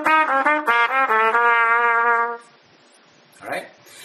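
A trumpet plays a pattern of thirds in triplets, three notes per beat, in a quick even run of clear bright notes up close that stops abruptly, followed by a brief unrelated sound.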